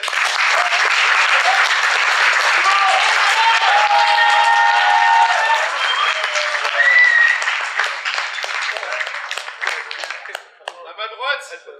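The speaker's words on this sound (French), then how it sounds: "Applaudissez-les s'il vous plaît." A theatre audience at an improvisation match applauds the teams, loud dense clapping sustained for about ten seconds before thinning out, with scattered voices and cheers mixed in.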